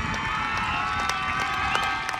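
Dense crowd noise fills a stadium before a Little Miami high school homecoming football game, a steady roar of cheering and clapping with scattered sharp claps throughout.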